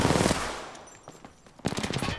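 A Tripletake shotgun fired in a video game, a loud close blast that decays, then faint clicks and a second heavy shot near the end.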